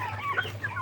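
Malaysian Serama chickens, tiny bantam birds, give a quick burst of soft clucking nearby, a brief low chatter with no voices.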